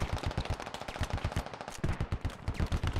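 Rapid bursts of automatic gunfire aimed at vehicle tires in a military shooter video game, loud and close with an uneven stuttering rhythm and no talk.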